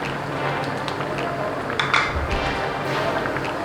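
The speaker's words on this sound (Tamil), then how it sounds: "கிளறி விட்டு போகிறோம் நல்லா." Ground coconut paste is stirred into chicken curry in a clay pot, giving close scraping and soft clinks of a spoon against the pot, with a louder knock near the middle.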